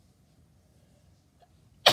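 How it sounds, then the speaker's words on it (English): Near silence with faint rustling, then a single sharp, loud sneeze bursts out right at the end. "Oh, I gotta sneeze."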